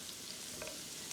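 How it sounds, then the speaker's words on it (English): Pork frying in a generous amount of oil in a pan, a steady soft sizzle running evenly throughout with a few faint crackles, fairly quiet and with no talking. "I'm going to be frying up the pork in there"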